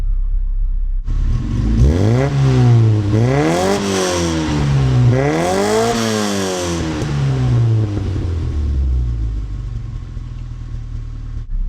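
An Austin Mini engine fitted with an old-generation oil-bath Sunbeam carburettor idles loudly, then revs up and down twice in smooth rising and falling sweeps before settling back to a steady idle, close up with no talking.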